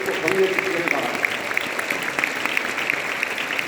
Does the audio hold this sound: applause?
yes